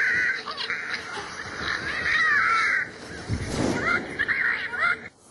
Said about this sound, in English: An angry bird.